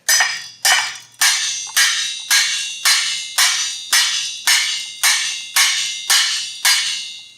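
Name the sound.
whisk striking a pot lid as a homemade cymbal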